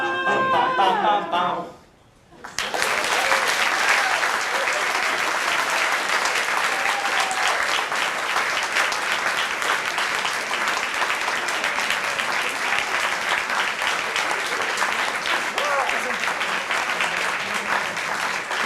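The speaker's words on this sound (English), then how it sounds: "give one more round of applause to our friends at" A large audience at a family weekend event bursts into sustained, loud applause after a short stretch of singing, the dense clapping continuing steadily to the end.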